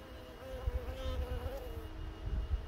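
A honeybee swarm housed in a hive box gives off a soft, steady buzzing hum, with individual bees droning past up close over a faint background.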